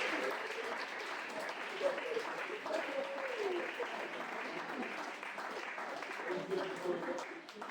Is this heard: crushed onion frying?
no